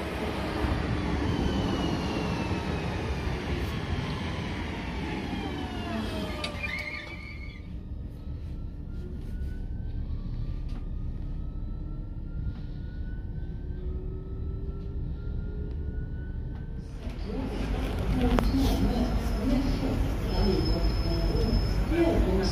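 A train rumbles in with a rising mechanical drone and long, high squealing tones from the wheels, growing louder as it draws near.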